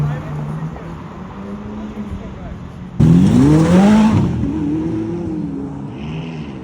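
A Ferrari 812 GTS with a straight-pipe exhaust, parked among race cars on a city street, bursts into a loud, rising engine rev midway through, then settles into a steady roar over the crowd noise. People talk throughout.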